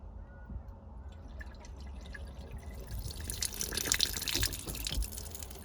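Water gushes and drips from the port side exhaust manifold of a boat being flushed during winterizing, a steady splashing flow that grows louder and busier toward the end.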